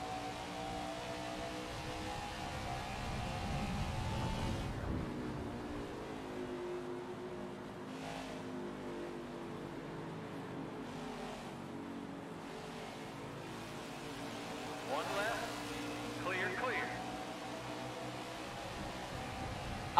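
NASCAR stock car engine in NASCAR 21 at Nashville, a steady low drone that drops back mid-run, then builds again with faint rising tones, moderately loud with no talk.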